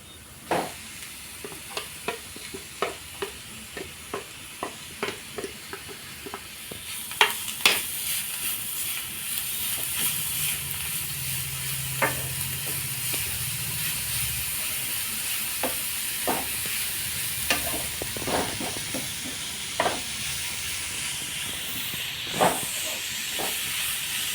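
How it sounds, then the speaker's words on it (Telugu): Grated beetroot sizzles with reddened onions in a pan. A steady hiss of frying runs under repeated scraping and tapping stirs, and a low bubbling patch joins partway through. Nobody speaks. "ఉల్లిపాయ ఇలా ఎర్రగా వేగిన తర్వాత తురుముకున్న బీట్రూట్ వేసుకోవాలి"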